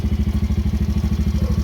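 A 2016 Yamaha Raptor 90 ATV engine idles steadily after carburetor removal, cleaning and repair, a close, even low chugging pulse with a light mechanical clatter, no voices.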